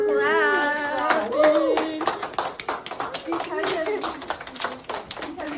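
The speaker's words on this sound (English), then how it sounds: "Let's give it up for Clap." A school audience claps and cheers in an applause burst of many hands, with children's and adult voices calling out over the clapping.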